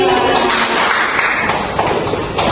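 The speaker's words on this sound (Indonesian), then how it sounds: "Beri tepuk tangan oleh Yusri" A classroom group claps for a peer-teaching group that has just presented, steady dense applause running the whole time, loud and close.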